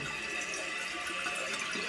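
Water running continuously through a toilet tank overflow, a soft, steady trickling rush heard faintly and alone.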